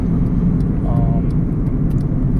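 Honda car engine running with no engine oil, a steady low idle hum filling the background while someone talks over it.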